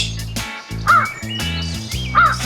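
A crow caws twice, loud and close, each harsh call standing out over a steady background of layered tones.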